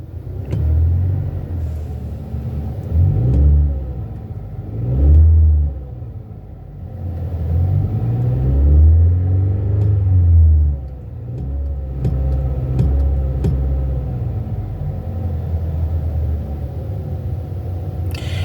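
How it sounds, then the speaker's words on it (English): A car engine revs up and drops back repeatedly at close range, each rise and fall lasting a couple of seconds over a steady idle rumble, with no talking. "Everything sounds good when the engine is revving up, so it goes back down."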